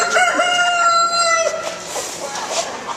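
A rooster crows loudly and close by, one long drawn-out call that fades into clucking and background noise.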